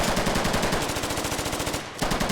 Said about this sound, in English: Karma Cut shooting out the balcony here